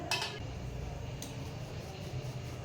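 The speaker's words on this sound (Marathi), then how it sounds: "अशा पद्धतीने आपण सगळं पीठ व्यवस्थित चाळून घ्यायचं आहे" Wheat flour shaken through a metal sieve, heard as a steady soft scratchy hiss with light tapping clinks of the mesh rim, close and fairly quiet, with no voices.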